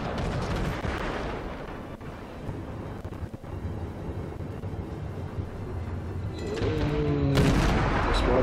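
Naval guns from warships firing in a video game, a dense rumbling barrage of booms rolling continuously and loud, swelling toward the end with a heavier blast and ringing tones.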